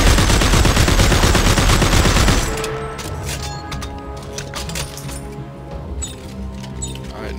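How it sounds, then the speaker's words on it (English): Assault rifle in Dead Space 3 firing a rapid, loud automatic burst of evenly spaced shots for a couple of seconds, then stopping, followed by quieter ambient hum and small clinks. "Alright, now here's the assault rifle."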